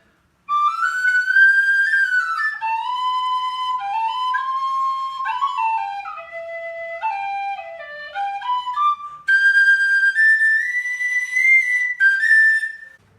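A Tony Dixon aluminium tin whistle plays a flowing tune alone, sustained notes rising and falling, turning louder and brighter in a higher passage near the end.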